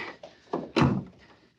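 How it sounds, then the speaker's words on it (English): A heavy door swings shut in a radio drama, landing with one solid, close thunk after a few softer scrapes and shuffles, with a brief rumbling tail. "help me close the door"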